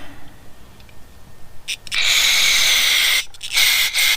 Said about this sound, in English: Spray that guy out.